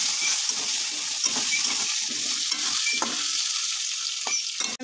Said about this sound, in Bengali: তো ঢাকনাটা খুলে তারপর আমি আলুগুলোকে খুব সুন্দর করে একটু ভাজবো।